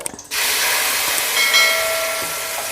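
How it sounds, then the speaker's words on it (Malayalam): Cooked banana drops into two tablespoons of hot ghee for Kerala pazham pradhaman and erupts into a loud, steady sizzle that holds strong and continuous after a brief quiet start. "2 ടേബിൾ സ്പൂൺ നെയ്യിട്ടു. അതിലേക്ക് ഈ പഴം വേവിച്ചത്"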